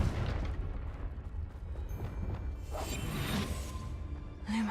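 A Confringo fire spell in Hogwarts Legacy bursts with a soft whoosh and muffled booming blasts, fairly quiet and layered over low rumbling game ambience.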